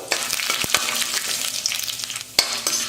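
Chana dal, urad dal and cashews roasting in a pan, a spoon stirring and scraping in quick strokes over a gentle frying sizzle, one sharper knock near the end, with no talking.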